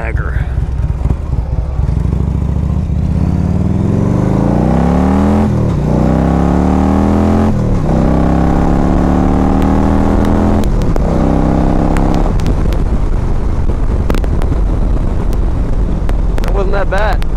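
A 1991 Harley-Davidson FLHTP bagger motorcycle drones under way with a loud, rough V-twin note, climbing through several gear changes, with wind buffeting throughout.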